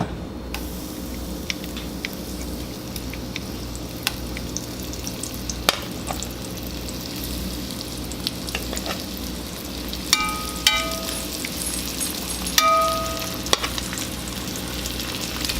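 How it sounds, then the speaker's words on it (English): Beef frying in batches in a pan for a steak and Guinness pie, a constant close sizzle with a low hum beneath and a few clicks and clinks near the end. "We're just going to fry our beef"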